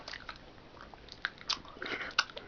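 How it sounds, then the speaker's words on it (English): Someone chews very chewy, hard food at close range. Quiet irregular bites and squishy crunches come in small bursts over faint background noise. "This is really hard to chew."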